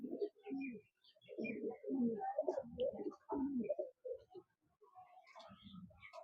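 Imported Teddy pigeons coo in soft, throaty, repeated phrases with brief pauses, close by, alongside a few fainter higher chirps.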